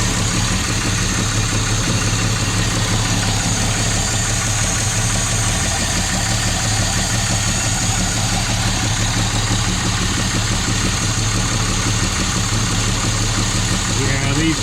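A Jaguar S-Type engine idles steadily with rattly tappets, a continuous mid-pitched tick and hum that holds at an even level throughout without a break.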